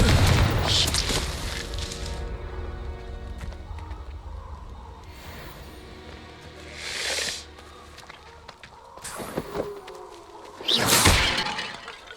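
Incendio and Confringo spell blasts in the video game Hogwarts Legacy, several loud bursts of shattering and booming impacts spread across the stretch, with quieter magical whooshes and rumbling between them.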